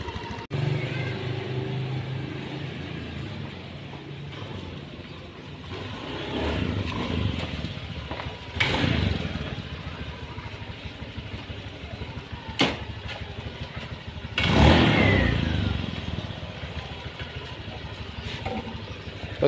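A Honda Beat scooter runs after repair of a popping, backfiring fault. Its engine sounds close and rough over steady noise, with a few short revving bursts standing out.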